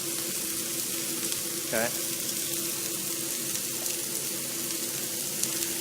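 Cauliflower frying with breadcrumbs in a hot pan, a steady dense sizzle throughout, close and fairly loud, with a brief spoken word partway through.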